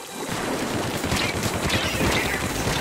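A Tenta Missiles barrage in the Splatoon shooter, heard as a continuous dense roar of rapid impacts and splatter that stays loud and steady throughout.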